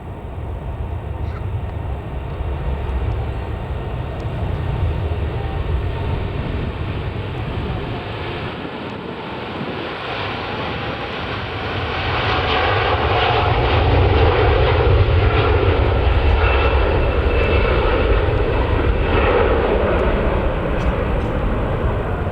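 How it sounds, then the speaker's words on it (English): A Boeing 787-9 Dreamliner jet begins its takeoff run at Manchester Airport, a steady broadband engine roar heard from a distance that swells noticeably louder midway through and holds strong, with no talking. "taking off, we've got a Dreamliner, 787-9 Dreamliner Indigo going to Delhi"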